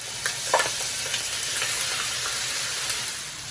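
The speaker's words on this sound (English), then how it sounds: "while the chicken frying up" Chicken pieces for butter chicken fry in a pot of hot oil, giving a steady, close sizzle and crackle with occasional stirring clicks and bumps, and no talking.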